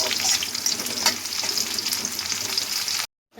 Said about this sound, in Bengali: প্রথমে আমি পেঁয়াজের পেরেস্তাটা ভালো করে ভেজে তুলে রেখে দেবো